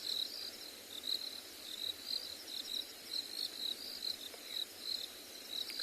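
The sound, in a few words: red toads droning in the distance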